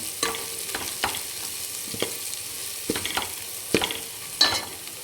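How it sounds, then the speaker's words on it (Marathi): Powdered spices are stirred into a frying dhaba-style egg curry masala: a spoon or spatula scrapes the pan in irregular strokes over a low, steady sizzle, close up and without talk. "हे सगळे पावडर मसाले आपण याच्यामध्ये टाकून देऊ आणि छान मिक्स करून घेऊ"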